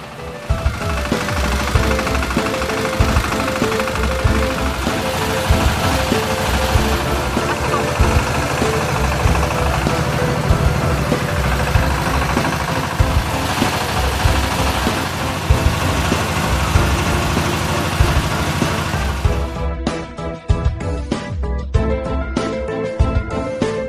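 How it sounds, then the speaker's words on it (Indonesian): A feed mixer machine runs while mixing a cattle ration for fattening, giving a loud, steady mechanical drone that continues unbroken and shifts in tone near the end. "Pencampuran bahan ransum pakan dapat dilakukan dengan menggunakan mesin mixer"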